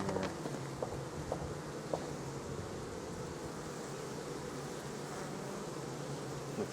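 Honeybees buzz densely at an open hive frame, a steady close swarm drone with scattered brief taps and knocks early on, continuous and fairly quiet with no voices.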